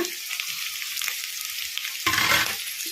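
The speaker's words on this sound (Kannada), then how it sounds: "ಉಳ್ಳಾಗಡ್ಡಿ ಗೋಲ್ಡನ್ ಬ್ರೌನ್ ಕಲರ್ ಬರೋವರೆಗೂ ಫ್ರೈ ಮಾಡ್ಕೊಂಬಿಡೋಣ ಮೀಡಿಯಮ್ ಫ್ಲೇಮಲ್ಲಿ" Chopped onions and curry leaves frying on medium flame in a pan, with a steady bright sizzle, briefly getting louder and harsher as they are stirred near the end.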